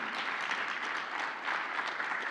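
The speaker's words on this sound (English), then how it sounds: "Everyone give them a round of applause." An audience at a game show applauds the celebrity judges, a dense, even burst of clapping that stays loud throughout its couple of seconds.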